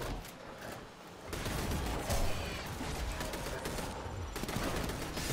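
Auto turrets in Gambit rattle off continuous rapid gunfire, a dense, fairly loud stream of shots that briefly dips then resumes, with layered game combat noise throughout.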